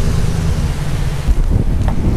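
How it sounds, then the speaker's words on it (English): Loud wind roaring and buffeting the microphone outdoors at a garage sale, a low rumbling gust with a brief thump partway through. "Another windy day."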